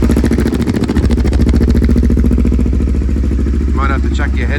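A Kawasaki Ninja 250 idling through a replica Yoshimura R77 slip-on exhaust with the silencer insert fitted, a loud steady close-up burble with a rapid even pulse, a short blip near the start and someone talking over the end.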